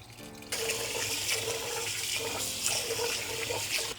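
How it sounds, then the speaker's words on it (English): Hand swishing uncooked rice around in a bowl of water to rinse off starch for Korean makgeolli, a steady close sloshing and churning of water that continues without a break. "I'm just gonna swish my hand around in this sort of motion just to loosen up all the starch that's in the rice."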